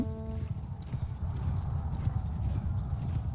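Horse hooves clip-clop steadily and close during a battle in Mount & Blade II: Bannerlord, a brisk continuous gait over a dense rumble of fighting, with a brief whinny near the start.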